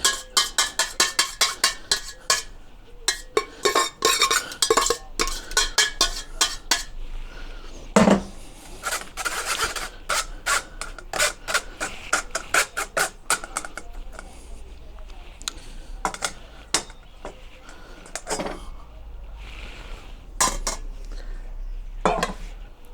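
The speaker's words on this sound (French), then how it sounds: "maintenant, on n'a plus qu'à filtrer la sauce" Bordelaise sauce with lemon juice being strained through a metal strainer, with repeated sharp clinks and scrapes of utensils against pots and the strainer, close and busy, with a voice talking in between.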